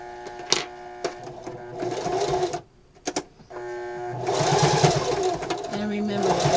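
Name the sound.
sewing machine stitching a wrist pincushion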